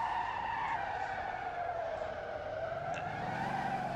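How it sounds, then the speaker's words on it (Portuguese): A car drifting on a race track in the Motor Town: Behind The Wheel video game keeps its tires squealing and skidding in one continuous whine, with engine drone underneath and no pauses. "Vamos torrar esse pneu."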